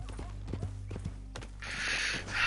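Horse hooves clop in Red Dead Redemption 2, a quick run of sharp, rhythmic knocks at moderate loudness, followed by a burst of louder broadband noise near the end.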